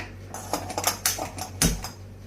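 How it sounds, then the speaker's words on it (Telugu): A metal kadai is set on a kitchen stove with several light clinks and scrapes of metal against the burner, followed by one sharper clank, close and fairly quiet. "ఫస్ట్ స్టవ్ మీద బాండీ పెట్టుకుని వెలిగించుకున్నాం అండి"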